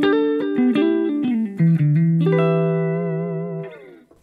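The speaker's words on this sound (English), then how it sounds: "But then the third microphone is the condenser mic and it sounds like this." Clean electric guitar from an open-back cab, miked with a condenser microphone, picks a quick run of distinct notes and settles into a long sustained tone that gradually fades out, close and clear.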